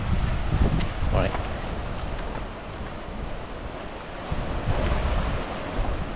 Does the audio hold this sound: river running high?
yes